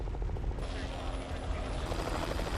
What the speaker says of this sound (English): the chopper must fly dangerously close to the red-hot, billowing ash cloud